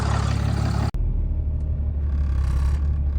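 A Cummins diesel pickup with a big turbo and 26x12 wheels driving along, a deep steady engine rumble and turbo whir close by after an abrupt cut, with no talk.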